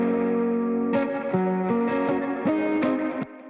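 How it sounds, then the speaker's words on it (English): Electric guitar chords layered with reverb and delay, EQ and smoothing on a hip-hop trap beat, sounding loud and sustained with changes roughly every half second and a trailing echo that cuts off abruptly near the end. "EQ'd it a bit, put another guitar plugin in, smoothed it with Soothe, and then just a little bit of leveling, and also adding a bit of reverb and delay"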